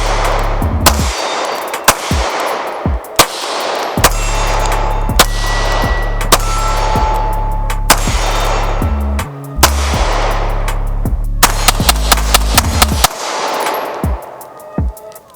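A Hi-Point C9 budget 9mm pistol fired outdoors: sharp, loud single shots at irregular spacing, each ringing out briefly, with a quicker string of shots near the end and quiet gaps between.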